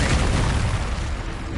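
Incendio fire spell cast in Hogwarts Legacy: a dense, loud rumbling burst of fiery whoosh and blast that roars continuously for the whole moment without a pause and without voices.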